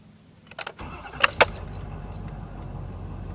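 A Ford 6.7L diesel truck engine starting after sitting overnight, preceded by key jingles and clicks, then cranking into a low steady idle rumble that continues to the end.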